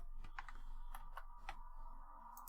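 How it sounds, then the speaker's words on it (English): Someone types on a computer keyboard, with irregular soft clicks and taps over a faint steady hum. The keystrokes come in scattered bursts with no talking. "I'm just typing anything to hop to the end here."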